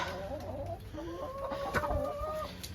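Several chickens cluck and call in a backyard homestead flock at morning feeding time, a steady overlapping chatter of mid-pitched clucks and squawks close by, with no talking.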